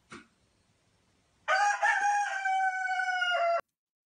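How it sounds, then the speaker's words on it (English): A rooster lets out a single loud, drawn-out cock-a-doodle-doo crow of about two seconds, heard alone and close after a brief faint sound. "You stand corrected. That's a rooster."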